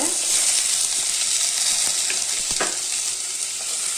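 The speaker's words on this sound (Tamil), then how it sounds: "இதை போட்டு நல்லா கொஞ்சம் நேரம் வதக்கிக்கலாங்க." Carrots and beans sauté with onion, garlic and ginger in a loud, continuous sizzle, with a few scraping stirs of a spoon in the pan.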